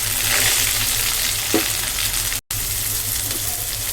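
Ginger and onion fry in a pan for a chicken pepper curry, with a loud, steady, close sizzle, a few stirring scrapes, and a very short break in sound partway through.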